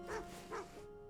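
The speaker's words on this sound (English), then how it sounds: "Oh, it's barking." Two quick high yips from a tassel hound in the video game Date Everything, close together and fairly faint over a steady background hum.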